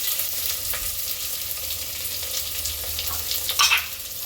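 Chopped onions fry with dried red chillies in a pan for a radish greens dish, a moderate steady sizzle with light stirring scrapes and a brief clatter near the end.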